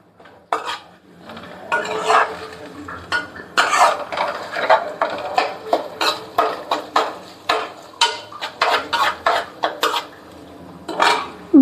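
Biryani ingredients, including raisins, roasting in a metal pot, with repeated sharp scrapes and clanks of a utensil against the pot in a steady, close rhythm and no talk.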